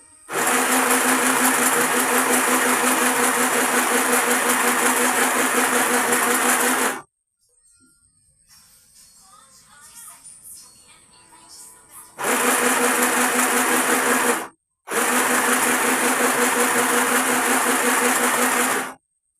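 A sewing machine stitching a bed set runs in steady, loud bursts of rapid stitching, stopping briefly in the middle before starting up again for two more runs.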